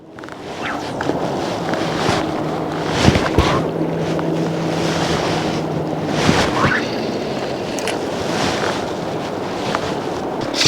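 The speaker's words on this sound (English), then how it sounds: "You hear a boat." A boat engine drones steadily beside wind and rushing water on the Cowlitz River, with a continuous low hum and occasional knocks, fairly close and loud.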